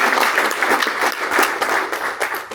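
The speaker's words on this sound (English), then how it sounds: "I want to give all of you a round of applause for showing up." A crowd at the Motor City Contractor Fund cohort kickoff orientation breaks into loud, dense applause, a sustained wash of many hands clapping close by for a couple of seconds.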